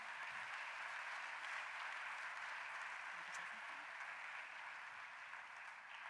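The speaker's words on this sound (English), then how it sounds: "I think that all our awardees really owe a round of applause." Audience applause for prize awardees at a plenary session, a steady broadband patter of clapping that holds evenly throughout with faint background talk mixed in.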